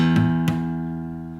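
A guitar chord strummed twice in quick succession, with a muted, buzzy, slightly dull ring that sustains and slowly fades.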